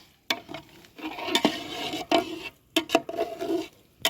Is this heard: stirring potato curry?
yes